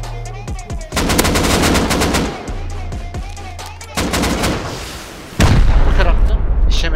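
Rockets are fired in the game Rust amid loud bursts of gunfire and heavy booming blasts, with rapid shot rattles and a big explosion near the end.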